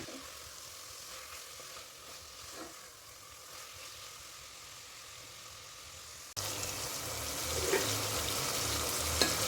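Tomatoes sizzle and fry steadily in a hot pan, a continuous crackling hiss that grows louder and busier partway through, with no voices.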